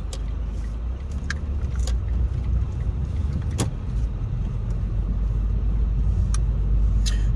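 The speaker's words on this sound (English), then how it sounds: "we got a car coming" A car passes on a street in Kosciusko, Mississippi, heard from inside a moving vehicle as a steady low rumble of road and engine noise that swells slightly through the middle, with no talking.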